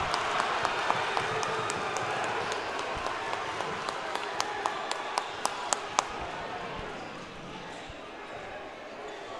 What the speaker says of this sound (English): And the crowd is now into it.